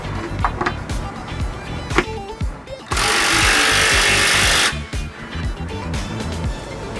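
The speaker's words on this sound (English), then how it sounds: "We're going to use the electric drill just to snug them down" Amid clanking and rattling, an electric drill whirs loudly in one sustained burst of nearly two seconds snugging bolts while fitting a trailer hitch on a 2001 Dodge Neon, then stops and the clatter resumes.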